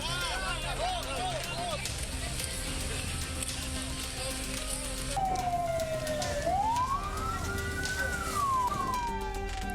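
An ambulance trapped by truck drivers blockading a road in Indonesia sounds its siren, wailing and rising through the second half over engine and crowd noise, with a voice talking throughout.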